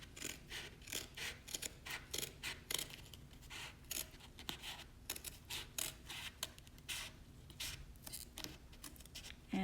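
Dull scissors snip and crunch along a scored fold line in card or paper for a box lid, a steady series of short rasping cuts, close and fairly quiet, with no talking.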